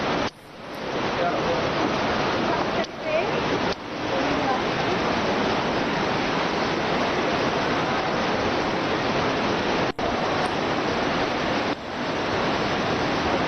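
Hot spring water at Manikaran, Himachal Pradesh rushes in a dense, steady hiss of flowing water, loud and close, continuing almost unbroken apart from a few brief dips.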